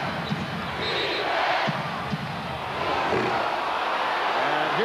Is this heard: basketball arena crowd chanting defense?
yes